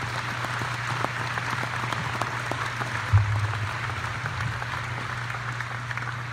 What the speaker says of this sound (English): Once again, let's give them another round of applause.